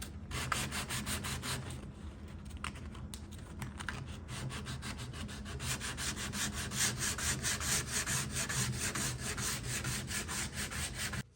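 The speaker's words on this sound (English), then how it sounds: "you just wrap your sandpaper around it and helps you get into those profiles" Close, rhythmic rasping of sandpaper wrapped around a block, rubbed by hand back and forth over a vintage wooden dresser, quick repeated strokes continuing steadily, with no voices.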